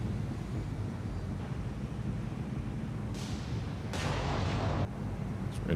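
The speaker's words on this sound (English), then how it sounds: "Well, the battleships can fire, that's for sure" Battleship guns fire in a naval combat game, War on the Sea, as muffled low booms over a steady windy, rumbling sea background, with two brighter bursts of blast noise standing out near the middle and end.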